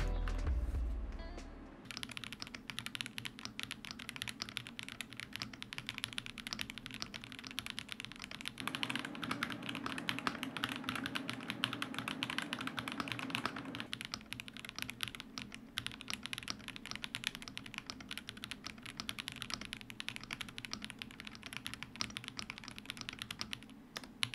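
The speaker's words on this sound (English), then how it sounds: "Assembling the keyboard back together, I installed the magnets back on and here's how it sounds." Steady, rapid typing on a low-profile mechanical keyboard fitted with iron switches and reinstalled magnets, continuous close-up clacks running throughout with no talking.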